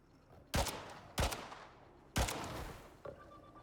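Four separate gunshots from the video game Styx ring out at uneven intervals, sharp and fairly close, the last one quieter, against a low background.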